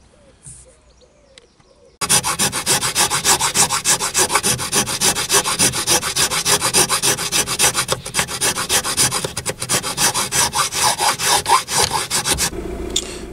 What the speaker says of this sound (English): I've been now filing just in that that gap there.